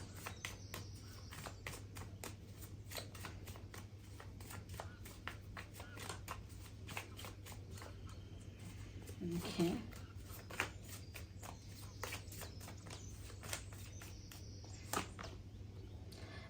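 Cards are shuffled in a quiet room, with soft, rapid riffling flicks repeating throughout and a brief spoken word partway through.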